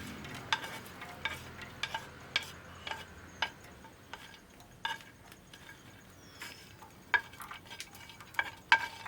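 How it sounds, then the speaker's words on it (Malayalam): Roasted coconut pieces are tipped into moong dal payasam (cherupayar parippu pradhaman) and stirred, giving a series of sharp spoon clicks and scrapes against the pot over a soft bubbling background, close and fairly quiet. "നമ്മൾ വറുത്ത് തേങ്ങാക്കൊത്ത് അങ്ങോട്ട് ഇടുക"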